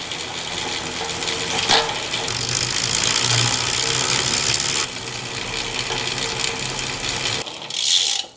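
A bicycle cassette freewheel with an Absolute Black Hollowcage oversized pulley wheel system ticks in a steady, rapid ratchet clatter under mechanical noise, close and fairly loud, ending abruptly with a brief whir.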